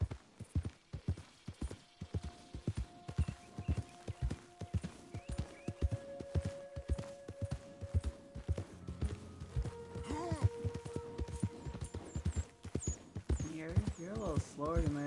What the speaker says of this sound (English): You're a little slower than my other horses.